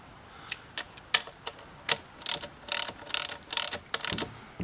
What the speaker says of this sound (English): kind of holding the socket so I can make it ratchet for me there a little bit.